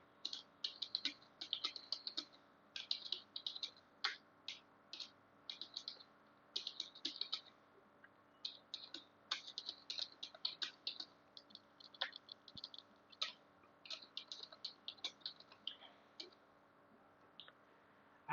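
Quick, irregular bursts of keystrokes tap on a computer keyboard, close and quiet, with short pauses between typed words and no talk.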